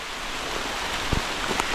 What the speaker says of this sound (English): And the rain is picking up again too.